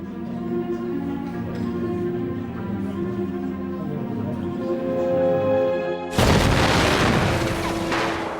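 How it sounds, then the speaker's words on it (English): A bomb exploding behind a speaker's rostrum in a Munich beer hall: a droning tonal bed suddenly breaks into a loud, broad blast that keeps rumbling to the end. "a bomb exploded behind the speaker's rostrum"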